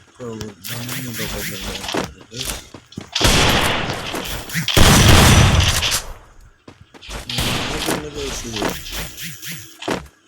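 Gunfire in the mobile shooter Free Fire, with bursts of rapid shots and a heavy sustained barrage midway, loud and close, while a voice talks over much of the action.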